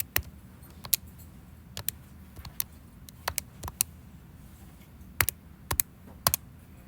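A graphing calculator has a function entered on it. Crisp, isolated plastic key clicks come in small irregular bursts, close and fairly quiet, over a soft background murmur.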